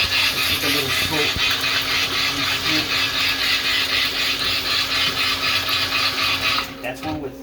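A small 3D-printed outboard motor runs at low RPM with a steady whirring buzz close by, then the motor winds down near the end.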